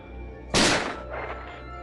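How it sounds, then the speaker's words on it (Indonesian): A single gunshot in an action film, a driver shot from behind: one sharp loud crack with a brief tail, over a low background score, with no voices. "Kemudian driver ditembak dari belakang sampai membuatnya tersungkur."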